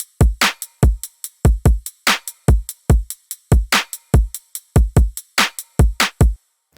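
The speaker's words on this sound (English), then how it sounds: "So the drums sound like this." Electronic drum pattern built from a punchy kick drum and three layered snares in a bass-music beat, looping in a steady, loud groove of sharp hits with no voices.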